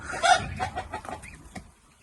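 Chickens cluck nearby in a few short, scattered bursts, fading toward the end.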